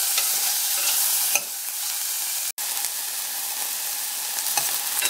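Onions fry with a steady close sizzle in a pan while a spoon stirs them, a brief dropout midway, no talking.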